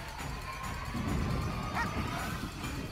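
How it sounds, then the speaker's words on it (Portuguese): Cursed dogs in The Witcher bark and yip in short bursts against a low, rumbling game backdrop, moderately loud and fairly close. "Os cachorros amaldiçoados aí."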